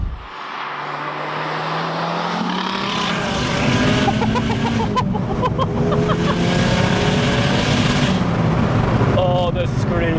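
A 1.4-litre Vauxhall Corsa fitted with a big turbo and making over 300 bhp is heard from inside as the engine note rises steadily under acceleration, a loud strained roar with whooshing turbo sounds and brief chirps near the end.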